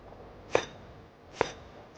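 A kitchen knife slices down through kudzu root on a chopping board, two crisp, close cuts about a second apart against a quiet background.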